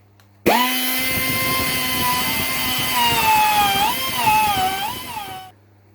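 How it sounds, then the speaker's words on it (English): Die grinder spinning up abruptly and whining at a high pitch while cleaning up metal on a Ford Escort MK1, its tone dipping and wavering under load before cutting off sharply. "we've got the die grinder in there now to clean that up a little bit"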